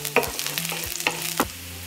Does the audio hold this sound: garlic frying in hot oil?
yes